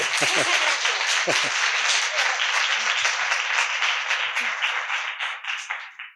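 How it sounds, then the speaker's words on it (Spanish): An audience applauds to welcome the writer Elia Barceló at a reading event, sustained, dense clapping from many hands, with brief voices near the start, thinning out toward the end. "Vamos a darle un fuerte aplauso a Elia"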